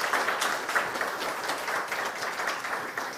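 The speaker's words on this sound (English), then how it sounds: "A huge applause for Leo." Audience applause for a presenter at a web standards talk, a steady wash of clapping lasting the whole moment at moderate level, no voices over it.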